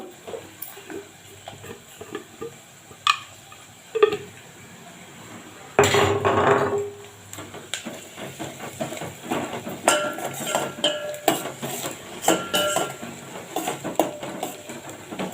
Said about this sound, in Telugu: రెండు చిన్న చిన్నగా కట్ చేసిన ఉల్లిగడ్డలు వేసేసాను వాటిని మంచిగా కలుపుతూ